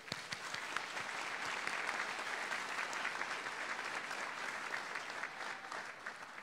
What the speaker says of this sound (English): Can I please get an applause for the graduates?